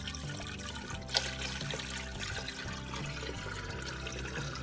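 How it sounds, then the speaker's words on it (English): Fresh water poured into a home fish tank, a steady splashing trickle and gurgle at low level with a brief small splash near the start, no voices. "I'm just going to go ahead and add the new water."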